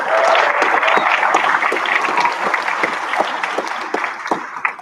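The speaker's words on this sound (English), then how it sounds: "So round of applause for that." A large crowd claps steadily at a white coat ceremony, a dense sustained round of applause that slowly tapers off toward the end.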